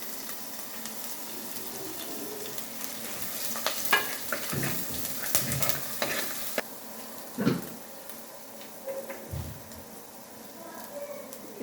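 Garlic and curry leaves sizzle and crackle in a hot pan for a Kerala fish curry, with a soft steady fry broken by louder stirring scrapes; a person talks quietly over the cooking.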